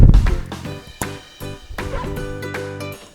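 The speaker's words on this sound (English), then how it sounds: "this is a dog." A dog gives a quick run of yipping barks and whimpers, close and fairly loud, several short bursts in a row with brief gaps between them.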